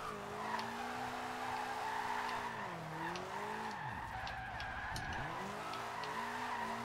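A Toyota Celica GT drifts in the racing game Forza Horizon 2, its engine droning and tires squealing continuously as revs dip and rise through the slide, loud and steady with no pause.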